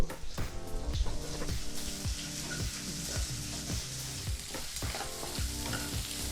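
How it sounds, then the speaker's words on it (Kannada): Finely chopped onion fries in a pan over a low flame, giving a steady, close sizzle with occasional stirring scrapes. Tonal background music runs underneath throughout. "ಈರುಳ್ಳಿನ ಈ ರೀತಿ ಚಿಕ್ಕದಾಗಿ ಕಟ್ ಮಾಡಿ ಬಾಣಲಿಗೆ ಹಾಕಿ ಇದನ್ನು ಸಹ ಒಂದೆರಡರಿಂದ ಮೂರು ನಿಮಿಷ ಲೋ ಫ್ಲೇಮಲ್ಲೇ ಫ್ರೈ ಮಾಡ್ಕೋಬೇಕು"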